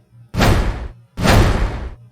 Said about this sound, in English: this metal door hinge has a really cool build-up effect when you hear it by itself